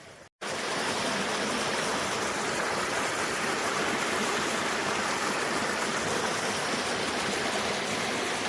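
Water rushes steadily down Reyes Creek, a mountain trout stream in the Ventura mountains, as a constant close broadband flow that begins abruptly after a brief cut and stays even throughout.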